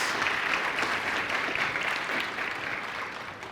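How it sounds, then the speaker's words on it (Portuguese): Church congregation breaks into warm, continuous applause, a dense even clatter of many hands that stays strong for a few seconds and eases slightly at the end. "uma salva de palmas"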